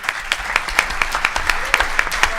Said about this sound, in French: pour que vous puissiez les applaudir